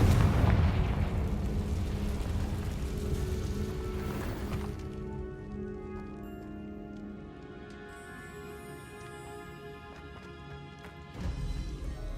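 The Confringo fire spell explodes in Hogwarts Legacy, a loud, deep blast at the start that rumbles and slowly fades, followed by a second, smaller burst near the end.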